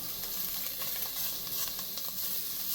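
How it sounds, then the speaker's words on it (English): Andouille sausage browns in a gumbo pot with a constant, close, hissing sizzle and faint stirring underneath, no voices. "we're going to brown our sausage"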